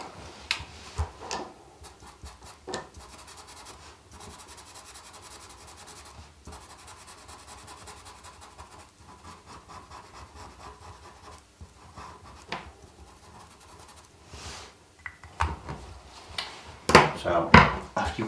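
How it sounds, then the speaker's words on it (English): A pen scratches and rubs across paper while a face is drawn on a lollipop puppet, giving a soft steady scribble with occasional taps and louder strokes near the end, and a voice talks intermittently. "But for this one, I'm just going to draw it on"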